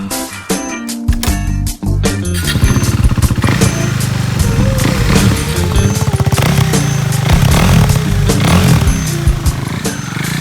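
A KTM 390 Duke single-cylinder motorcycle revs and rides off, its engine note climbing and falling through gear changes, loud and close throughout, with clattering and wind noise.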